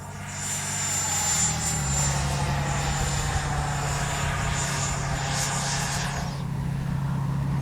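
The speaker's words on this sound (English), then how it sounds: "It's a 90mm jet." A Freewing 90mm F-22 V2 RC jet, stock and 6S-powered, flies past with a loud, steady high-pitched electric ducted-fan whine that swells and holds before easing off near the end.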